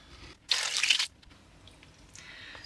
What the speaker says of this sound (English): to the fruit we are going to add 2 litres, 4 pints of water.